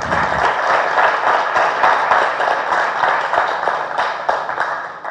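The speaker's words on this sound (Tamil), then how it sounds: "எனக்கு பெரிய கைத்தட்டு கொடுங்க" An audience at a film press meet for Pisaasu claps in sustained, dense applause for about five seconds, fairly loud and even before easing slightly at the end.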